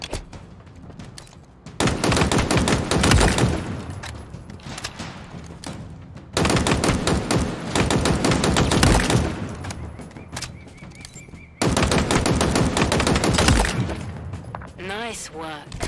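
Gunfire from Halo Infinite while shooting targets, in three dense, loud bursts of rapid automatic fire separated by short pauses, with game noise in between.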